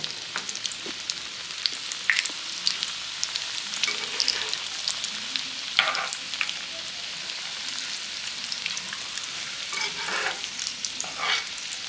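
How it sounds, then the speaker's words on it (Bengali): Whole prawn chops frying in hot oil, a steady bright sizzle with occasional crackles and stirring, moderately close and continuous with no talk. "3টা ভেজে নিই, তারপরে ওগুলো দিব"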